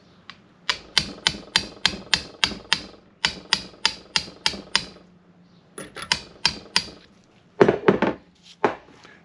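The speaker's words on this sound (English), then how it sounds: "place it over there and give it a tap with a hammer" A hammer taps a 19mm socket to seat a cover during a Moto Guzzi centre stand installation: quick, sharp metallic knocks in rhythmic runs of several, pausing briefly between groups, close and clear.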